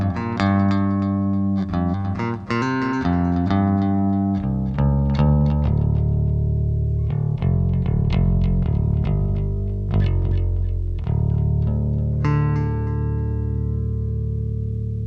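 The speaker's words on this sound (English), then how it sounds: "the clean Ampeg tone with a little bit of delay." Clean bass guitar playing through an Ampeg amplifier with a touch of delay, a Cort C4P bass in a rig with an EH Battalion preamp; a continuous run of warm, full notes and chords, loud and close, no talking.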